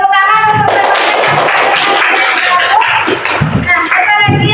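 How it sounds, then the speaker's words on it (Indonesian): Students in a classroom clap their hands together in a brief burst of applause, sharp uneven claps close to the microphone, with a voice speaking at the start and end. "Tepuk tangan untuk teman-teman."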